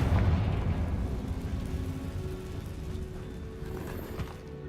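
A Confringo fire spell explodes in Hogwarts Legacy, a deep rumbling boom that starts loud and slowly decays into a low roar.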